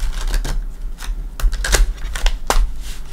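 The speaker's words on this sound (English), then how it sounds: "I don't know why I'm shuffling the cards, but I am giving them another cut." A deck of tarot cards being shuffled and cut by hand, a run of quick papery riffles and snaps in uneven bursts, close and fairly loud, no speech.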